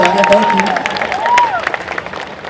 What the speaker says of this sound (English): You can applaud for me. That's cool. I would love that.